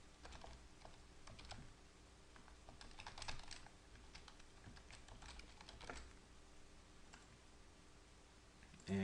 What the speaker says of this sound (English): You would type in your name, and your email address.